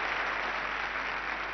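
Sustained applause from a large audience in the Royal Albert Hall at the 1968 Eurovision Song Contest, a dense, steady roar of clapping with no voices.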